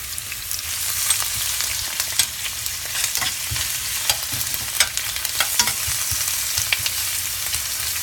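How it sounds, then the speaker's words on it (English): Vegetables sizzle and crackle steadily in a hot pan while being stirred, with irregular scraping and clattering spikes over a constant frying hiss, close and without talk. "we're just going to toss in our vegetables. So we got a nice sizzle, right?"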